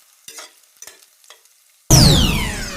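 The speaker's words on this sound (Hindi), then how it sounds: "अब मिर्ची और प्याज को मैं सौटे कर लूंगी।" Julienne-cut green chillies and onion hit hot oil in a pan with a sudden loud, steady sizzle that carries on to the end, after a few soft, faint kitchen knocks and rustles in the quiet before it.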